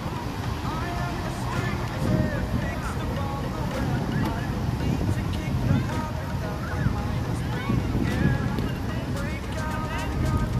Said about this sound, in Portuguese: Ventando bastante, pessoal.